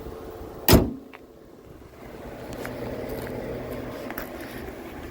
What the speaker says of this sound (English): gonna unhook it here, lay that down, and pull close the hood